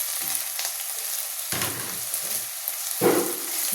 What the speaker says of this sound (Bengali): তেল গরম হয়ে গেছে, সয়াবিনগুলোকে দিচ্ছি।